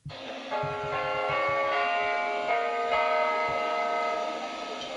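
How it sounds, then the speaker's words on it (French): Lausanne cathedral bells used as a station jingle on the m2 metro, playing as a bright, layered peal of overlapping tolling tones that sustains for several seconds over faint station ambience. "C'est les cloches de la cathédrale"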